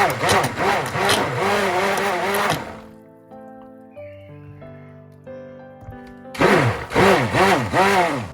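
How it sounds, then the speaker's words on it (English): A handheld immersion blender mixing lye solution and oils into cold process soap batter whirs in wavering, pulsing bursts, stops for a few seconds while soft music plays, then buzzes loudly again. "I pour the lye solution into the oils and use an immersion blender to reach a light trace"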